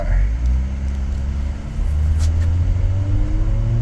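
A stock Honda Stepwgn RK5 with tuned engine, original wheels and exhaust, air conditioning on, accelerates in drive during a speed test, its engine drone rising steadily in pitch over a constant low rumble.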